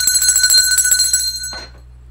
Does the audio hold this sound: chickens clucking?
no